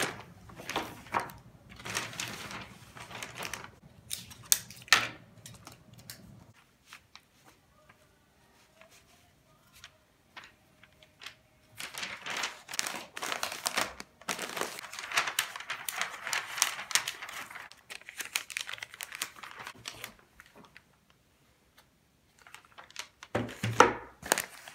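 Wrapping paper is handled and cut in bursts of crinkling, rustling and snipping, fairly close, with quieter pauses between the bursts.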